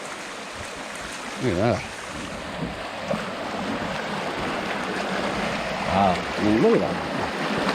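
Creek water flowing through a stream passage with steeply tilted rock bedding, a steady close rushing wash heard under someone talking in short excited bursts.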